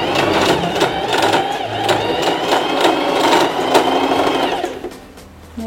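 Loud, close whirring and rapid clatter of a portable sewing machine stitching fabric with the thread tension lowered, running steadily for several seconds before slowing and stopping.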